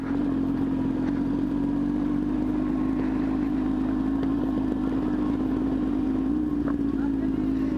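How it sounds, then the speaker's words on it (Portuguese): A Honda Hornet motorcycle rides along a dirt road, its engine holding a loud, steady droning hum from start to finish with little change in pitch. "Nós tá andando de Hornet no meio da estrada de chão"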